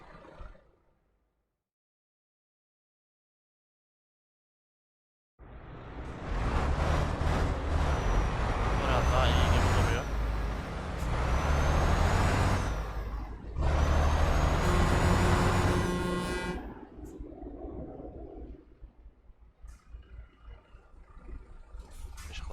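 A truck engine in Euro Truck Simulator 2, driving the Adana–Karaman road on a Turkey map, starts abruptly after about five seconds of silence and roars loudly in long revving surges, then drops to a softer, uneven rumble.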